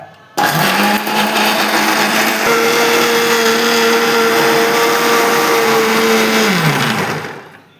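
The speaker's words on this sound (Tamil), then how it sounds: "மிக்சியில் அரைக்க போகிறேங்க" A mixer grinder blends pirandai (adamant creeper) chutney with salt, a loud steady motor whine with a rising pitch shift midway, running continuously for about seven seconds before winding down.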